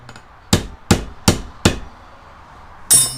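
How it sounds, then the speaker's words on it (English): A hammer strikes a metal breaker bar four times in an even rhythm, each a sharp ringing clank, followed after a pause by one more heavier blow, during a 1994 Subaru Legacy Turbo transmission install. "If I just hammer on this breaker bar"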